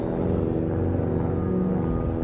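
An airplane flies in Call of Duty Mobile, a steady droning engine roar that holds at an even, fairly loud level throughout with no talking.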